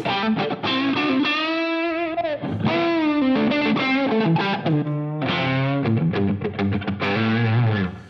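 A heavily distorted electric guitar plays thick sustained notes and chords, loud and close, with notes ringing out between changes.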